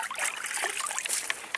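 Water splashes and trickles as a small trapped muskrat is rinsed in a water set, a brief burst of light, close dripping and sloshing sounds.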